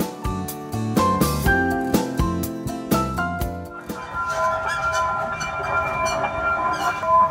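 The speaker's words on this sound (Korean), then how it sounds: "이게 항산공원을 두 배로 즐길 수 있는 가족 미니 기차입니다." A family mini train runs through a riverside park along the Nakdong River, giving a loud, steady run with clear ringing tones throughout and no talking.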